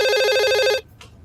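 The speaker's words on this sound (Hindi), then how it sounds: "अब इस फोन को कोई उठा लेगा या फिर ये भी आके मैं ही उठाऊं?" A telephone rings with a rapid trilling electronic bell for under a second, then cuts off abruptly, leaving near silence.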